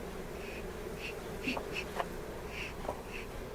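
Steady buzzing of honeybees at an open hive being worked by a beekeeper fills the air, with individual insects droning close by over a constant hum, no voices.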